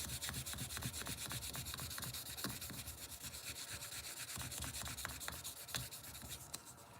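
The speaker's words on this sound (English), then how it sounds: "So just do a little bit of 3-in-1 on the sandpaper, kind of help cut down on the polishing" A brass ammunition case being sanded by hand with sandpaper wetted with 3-in-1 oil, a steady close scratchy rubbing that continues with quick repeated strokes throughout, without any talking.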